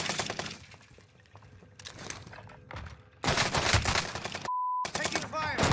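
Loud crackling bursts of gunfire and impacts in Warzone Pacific, building from scattered shots to dense volleys near the end, broken by a brief silent gap with a steady tone.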